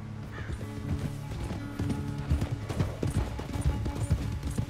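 Hooves of a galloping horse in a Red Dead Redemption 2 race pound in a fast rhythm, close and loud over a tonal game music bed.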